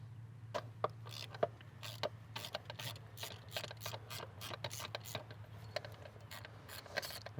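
A ratchet with a 19mm socket on a 2015 Subaru Outback turns out an old, dirty PCV valve, giving a steady series of close, sharp ratcheting clicks over a low background hum.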